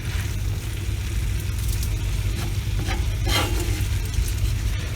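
Long beans stir-fried in a pan give a steady, close sizzle, with occasional stirring scrapes breaking through the constant frying hiss and no talking.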